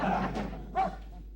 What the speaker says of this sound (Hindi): ये पांडे का कुत्ता अपने आप को समझता क्या है?